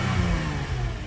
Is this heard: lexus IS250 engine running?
yes